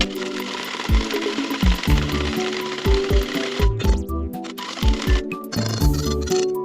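Eggs whisked briskly in a bowl for a scrambled egg mix, a fast, rhythmic clatter of the whisk against the bowl, close and loud with no talking.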